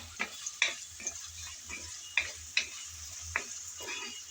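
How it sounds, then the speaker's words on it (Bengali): Potatoes and carrots frying in a pan with salt and turmeric, a soft sizzle under repeated spatula scrapes and clinks, about eight distinct strokes spread irregularly across the moment, close and fairly quiet. "এখন লবণ আর হলুদ দিয়ে নেড়েচেড়ে ভেজে নেব।"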